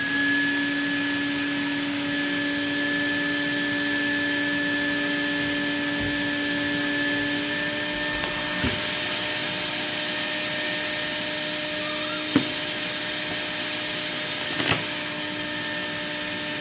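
A steady vacuum motor on a screen printing table drones continuously at close range, with a few brief clicks and knocks near the end.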